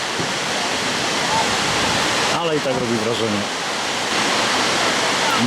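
The waterfall at Jajce, Bosnia roars as a steady, loud wash of falling water, with someone speaking briefly over it.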